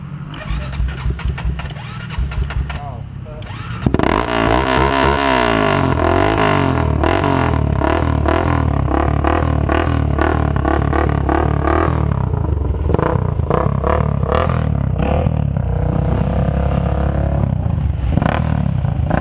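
A CR125 two-stroke dirt bike is bump started: a quiet rolling stretch gives way to the engine suddenly firing, then loud revving and crackling as it is held on the throttle, close up, with no talk.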